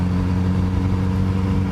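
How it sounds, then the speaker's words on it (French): A Kawasaki Z900RS motorcycle engine runs with a steady, deep, throbbing rumble, loud and close, holding an even note throughout with no talking. "Vous voyez, vous entendez ce petit son là de la moto. C'est assez fort, ça a une vraie présence."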